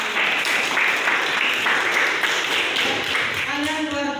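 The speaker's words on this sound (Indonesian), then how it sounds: "Tepuk tangan dulu. Tepuk tangan." A classroom of students applauds together in a steady, lively burst of clapping, close and loud, with voices mixed in near the end.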